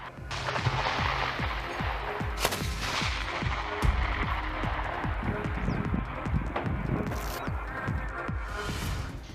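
A twin-barrel ZU-23 23 mm anti-aircraft autocannon fires rapid bursts, dense rhythmic thumping shots rolling steadily for about nine seconds with sharp cracks and echoing booms, fairly distant, with no clear voices.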